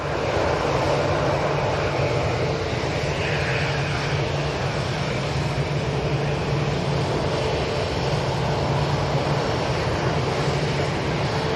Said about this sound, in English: It's EasyJet's finally departing.